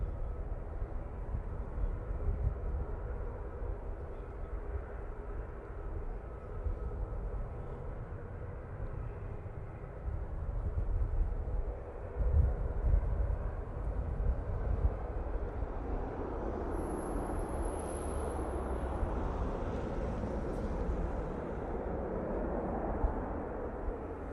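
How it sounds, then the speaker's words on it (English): A Ryanair Boeing 737-800 arriving at Manchester Airport from Prague gives off a steady, distant low jet roar that swells slightly midway and then holds as a broad rumble, with no talking. "Ryanair coming in from Prague using 737-800."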